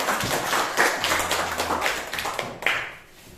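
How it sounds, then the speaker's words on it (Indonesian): Students in a classroom clap their hands, a short burst of scattered, uneven claps with a few sharp individual hits that thins out toward the end. "Ya, tepuk tangan semuanya nah."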